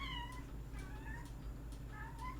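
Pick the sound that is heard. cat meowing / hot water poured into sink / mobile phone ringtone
cat meowing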